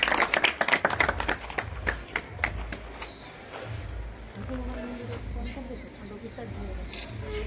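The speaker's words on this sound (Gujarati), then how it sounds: "જોરદાર તાળીઓથી આપણે એમને પણ વધારી લઈએ" Applause for a mother being honoured at a Mother's Day event in Kodinar town, with a burst of clapping up front that tapers into a thinner patter under crowd murmur and voices.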